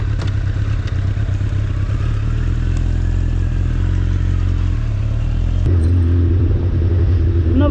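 A Suzuki Bandit 650N motorcycle rides through town streets, its engine a steady close rumbling drone with wind noise, shifting to a deeper, rougher note partway through.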